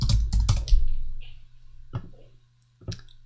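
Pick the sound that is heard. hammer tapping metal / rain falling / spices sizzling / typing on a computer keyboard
typing on a computer keyboard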